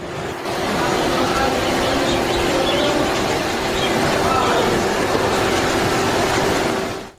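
Steady rumble of a Delhi Metro train in motion, heard from inside the carriage with a continuous drone and faint rail clatter, fairly loud and unbroken throughout.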